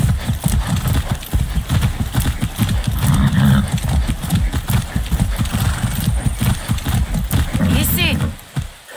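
A horse galloping in the video game Far Cry 6, with steady rapid clip-clop hoofbeats running close throughout and a brief whinny near the end, with a voice speaking over it.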